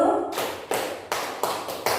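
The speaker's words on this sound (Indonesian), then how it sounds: "tepuk tangan dulu semuanya" At a gathering, a crowd follows a host's clapping-pattern check with a few sharp, unison group claps in an uneven rhythm, each burst decaying quickly before the next.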